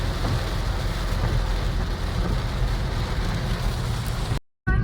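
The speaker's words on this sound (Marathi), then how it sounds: "मोठा पाऊस आलेला आहे" Heavy thunderstorm rain near Ajmer, Rajasthan roars steadily as a dense, even wash of noise, cutting off abruptly at the very end.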